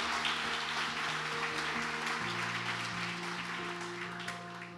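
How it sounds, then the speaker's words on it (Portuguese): Congregation applauding Jesus during a church service, a continuous wash of clapping over sustained music chords that runs the full stretch and eases slightly toward the end. "Você pode dar um forte aplauso a Jesus"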